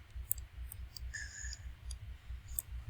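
Keyboard E key pressed repeatedly in a quick rhythmic series of faint, close clicks over a low steady hum, with no talking.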